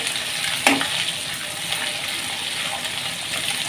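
Chopped onions with ginger-garlic paste fry in a pan with a steady, close sizzle, and a brief stir or clink of the spoon comes early on, with no talking.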